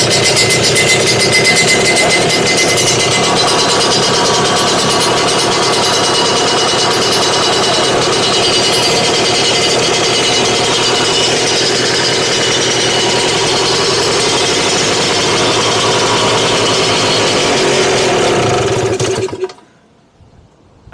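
A Lambretta Series 2 scooter engine idles steadily and loudly up close, a dense continuous two-stroke putter with slightly raised revs that runs without voices until it cuts off abruptly near the end.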